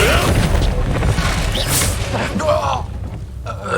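The Flipendo spell from Hogwarts Legacy bursts out with a loud, booming whoosh and rumble, a continuous blast of magic that tapers off toward the end.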